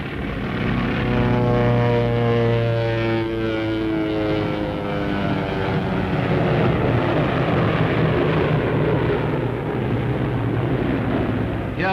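Pre-war propeller training aircraft flies a slow roll, its engine droning steadily and loudly throughout, the pitch slowly shifting as the plane turns, with no voices.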